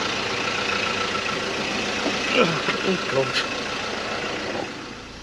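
An engine idles after a DPF cleaner treatment, a steady rumble with brief whistling and huffing bursts partway through; a voice briefly exclaims.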